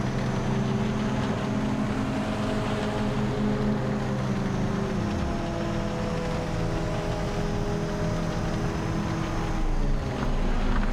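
A car engine drones with a steady tonal hum, its pitch dipping and rising again partway through as the revs change, close and continuous with no talking.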